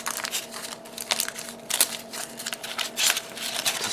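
Crinkly, crackling crumpling of aluminum foil for a 1/700 ship model, bursts of sharp rustle rising and falling irregularly throughout, close up with no voices.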